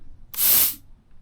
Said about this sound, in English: Very small spray, that's what I want.